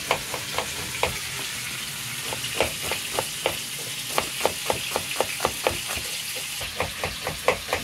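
Fish roe (gabolie) frying in a pan Goan style, a steady close sizzle broken by a quick run of sharp clicks and pops as it is stirred or turned, no voices.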